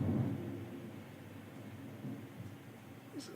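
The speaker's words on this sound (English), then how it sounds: "It's thundering outside." Thunder from a thunderstorm outside, a low rolling rumble that starts strongest and fades into a steady distant grumble with faint rain-like hiss.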